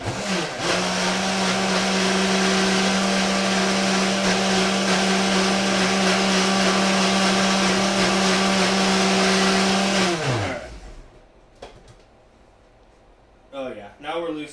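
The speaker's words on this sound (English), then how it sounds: "Food processors are super super versatile." A food processor blends a thinned sauce for tacos, a loud steady motor whine that runs for about ten seconds, then spins down and stops, leaving quiet room sound with brief talk near the end.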